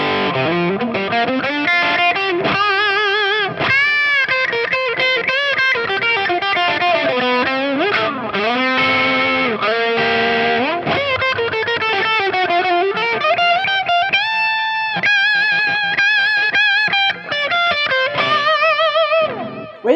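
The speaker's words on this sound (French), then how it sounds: "il y a cette distorsion qui est pas lourde, qui est très nerveuse" An electric guitar played on the bridge pickup runs through a Warm Audio overdrive/distortion pedal, producing a continuous, loud, moderately gritty tone with sustained melodic lines and bent notes, with no voices.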